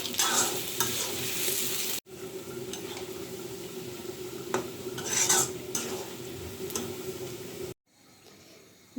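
Onions sizzle and crackle in hot oil in a kadai while being stirred, with scraping and clinks of a utensil against the pan, briefly pausing twice.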